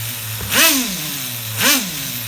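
On the bench, an HPI RS4 F150 nitro RC truck engine, running rich with an exhaust leak, buzzes at idle and snaps through two short, sharp revs that whine up and drop back.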